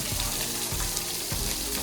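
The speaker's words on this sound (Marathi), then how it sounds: "असं पाणी घ्यायचं बा अंगाव गोविंदा" Water splashes and pours over a person's body outdoors during a trip to Tirupati, a steady gushing wash broken by a few heavier splashing bursts, close and fairly loud.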